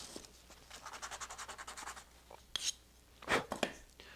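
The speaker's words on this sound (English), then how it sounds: "Piece of sandpaper now." Hand sanding with a piece of sandpaper on a balsa-style model aircraft tail part, heard as a run of short, rhythmic rasping strokes close by, followed by a few sharper scrapes and taps.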